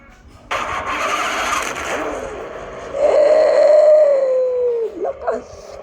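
A Pagani supercar in a video game cranks and fires up, its engine catching with a loud burst, then settling into a steady, rising mid-pitched drone before a brief rev blip at the end.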